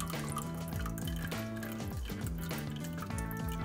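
Red wine vinegar is poured into a measuring cup holding olive oil for a salad dressing. The quiet, close liquid pour gurgles and trickles, with rising and falling pitch sweeps as the cup fills.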